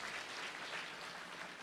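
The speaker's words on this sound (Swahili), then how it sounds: "Mpigieni makofi." Faint, steady applause from a church congregation at a Sunday service, a broad wash of many hands clapping at a distance with no break.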